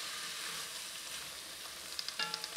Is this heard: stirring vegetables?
yes